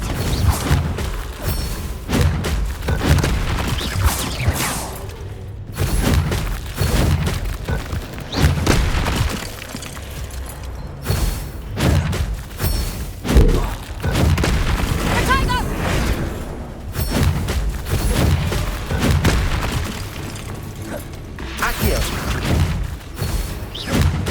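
Confringo spell blasts go off amid combat in Hogwarts Legacy, a series of booms, thuds and shattering impacts recurring every few seconds, loud and busy, with a voice speaking over parts of the action.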